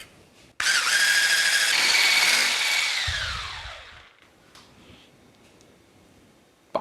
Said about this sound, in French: On va monter maintenant nos blancs en neige grâce à ce magnifique batteur électrique.